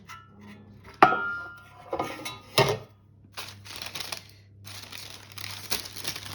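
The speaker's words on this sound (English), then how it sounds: "let's see if I can take the cake tin off" A metal cake tin lifted off an upturned cake on a cooling rack, with sharp metallic clanks and knocks, scraping and rustling of parchment, close and intermittent over a low background hum.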